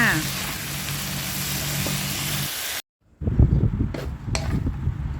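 Fried tofu and fried garlic sizzle loudly as they are stir-fried in a pan, a steady hiss that cuts off briefly before scraping, clattering stirring sounds resume.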